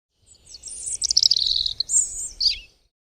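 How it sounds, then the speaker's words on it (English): A bird sings a bright, rapid series of chirps and trills close by, loud and busy for about two seconds before falling silent, with no talking. "Did you hear that bird?"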